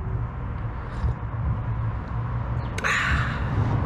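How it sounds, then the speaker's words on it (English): Outdoor road traffic passes as a continuous low rumble and whoosh, with a crow cawing briefly near the end; no one talks. "Sorry about the traffic noise there"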